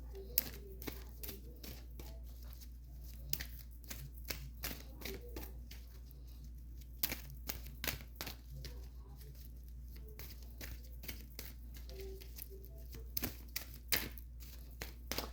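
Tarot cards being shuffled by hand produce sharp, irregular riffling clicks and soft slaps in quick bursts, close and fairly quiet, with faint murmured talk in places.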